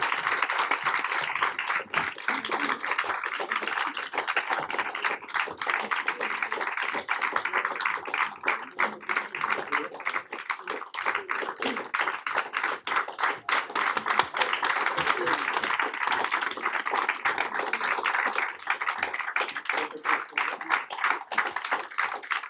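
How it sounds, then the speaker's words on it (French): Sustained applause from a crowd at a conference, dense clapping that continues steadily throughout at a moderate distance. "Je crois qu'on peut les applaudir de nouveau pour ce grand projet"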